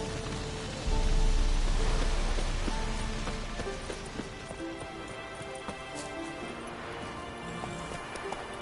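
Hooves of Roach, the horse in The Witcher 3, clip-clop in a steady rhythm, close and fairly loud at first, then settling under a constant rain-like hiss with no talking.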